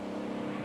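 A Lamborghini sports car engine heard from outside, a steady loud low rumble that holds constant with no pauses or speech.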